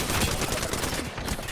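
Rapid, dense gunfire in Apex Legends, a continuous burst of shots filling the whole moment, loud and close with no talking over it.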